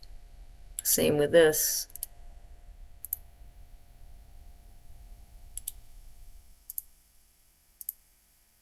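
Computer mouse clicks at a desk, a few sharp, close, isolated clicks spaced a second or two apart after a short spoken phrase.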